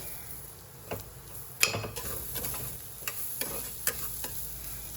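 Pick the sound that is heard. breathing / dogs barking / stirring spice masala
stirring spice masala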